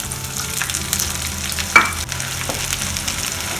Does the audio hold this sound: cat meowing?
no